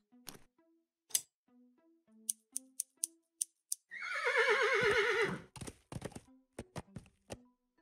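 A horse whinnies in the Willy Morgan and the Curse of Bone Town video game, one loud, shaky, descending neigh of about a second, set amid sparse clicks and soft game sound effects.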